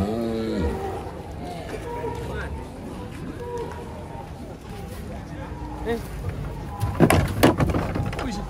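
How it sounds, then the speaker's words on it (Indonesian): A giant cow moos loudly and close by at the start as cattle are unloaded from a truck at a market, with more lowing later amid chatter, shuffling and a burst of clatter near the end. "kedatangan sapi raksasa guys. Gede banget"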